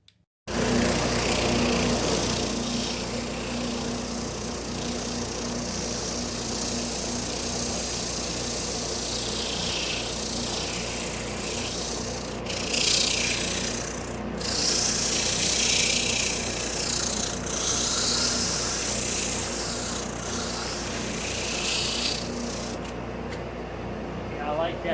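A Ridgid spindle sander sanding wood scraps, a steady motor hum and whirr running close and continuous for the whole stretch, with brief shifts in tone as the wood presses against it.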